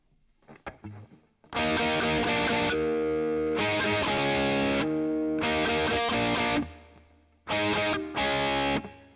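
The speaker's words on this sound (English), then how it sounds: "Let's throw some reverb on there. How about some hall reverb?" Electric guitar chords through a Boss Katana MK2 amp ring out in long sustained bursts, washed in spacious hall reverb that lingers, with short gaps between phrases and a few quiet plucks first.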